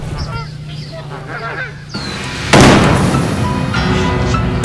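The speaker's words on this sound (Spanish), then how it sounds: "¡Un disparo!" A sudden sharp gunshot bursts out midway, its loud blast trailing into a sustained ringing rumble, after softer voices and background noise.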